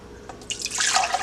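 Salted pasta water scooped from a cooking pot, a brief splash and rushing pour of liquid building over about a second, close and fairly loud, with no talk.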